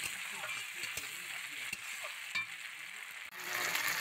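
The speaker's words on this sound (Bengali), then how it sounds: "মাছ ভাজার তেলের মধ্যে আমি পেঁয়াজ কুচি দিলাম আর দিলাম টমেটো কুচি, দিয়ে এটা ভালো করে কষিয়ে নেব" Chopped onion and tomato sautéing in leftover fish-frying oil for a village-style fish curry, a steady soft sizzle with occasional stirring scrapes, fairly quiet throughout and with no talking.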